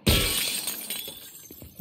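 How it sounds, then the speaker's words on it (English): A glass window is smashed in The Last of Us Part 2, bursting with a loud, close crash that decays into scattered tinkling shards, followed by another sharp impact at the end. "I had an idea for that, I smashed the window."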